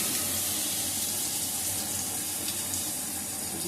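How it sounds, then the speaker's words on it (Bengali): Water poured into a spice mixture being hand-mashed for a Bengali dudh pepe (milk papaya) dish, a steady close splashing, running flow that holds at an even level throughout, with no talk. "এর মধ্যে দিয়ে দেবো সামান্য আরেকটু জল দিয়ে"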